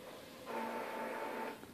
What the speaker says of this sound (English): My cat is sitting on top of the printer and has turned it on.